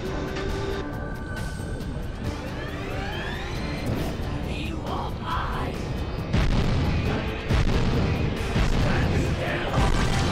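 Gunfire rattles at the player in Jak and Daxter, loud repeated shots and impacts over a busy bed of game music and effects, with bursts growing denser in the second half.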